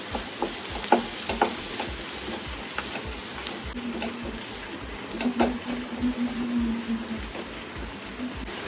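Onions frying with salt and curry leaves for an egg curry, a soft continuous sizzle with rhythmic spoon scrapes and taps against the pan.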